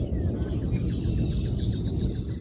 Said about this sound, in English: When I first got here, there was only like two birds singing, and now there's a whole chorus.